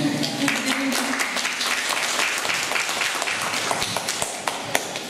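An audience applauds steadily and densely throughout, many hands clapping at close range with a few sharper individual claps near the end.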